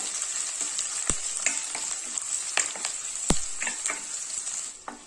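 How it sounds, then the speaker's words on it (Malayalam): Long-sliced onion sautéing in hot oil for a vegetable biriyani gives a steady bright sizzle, with scattered crackles and soft stirring knocks throughout. "ഇനി ഇതിലേക്ക് ഒരു സവാള നീളത്തിൽ കട്ട് ചെയ്ത് വെച്ചിട്ടുണ്ട്, ഇത് ചേർത്ത് കൊടുക്കാം. ഇതൊന്ന് വഴറ്റി കൊടുക്കുക."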